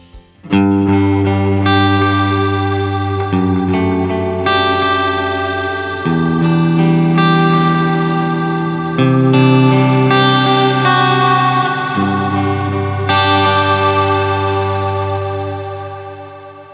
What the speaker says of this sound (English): That is called the cloud reverb, and it is super ambient, long decay, super washy.